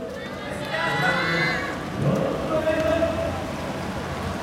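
Rain pours steadily over an outdoor yosakoi dance venue, a dense continuous patter heard under a person speaking.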